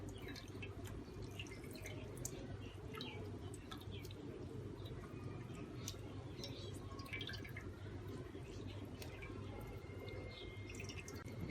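Water drips and trickles steadily from warm homemade mozzarella cheese as it is squeezed and pressed by hand in a kitchen, with soft, continuous patter and no talk.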